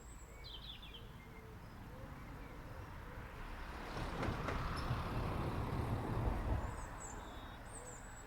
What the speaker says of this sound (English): The truck going past.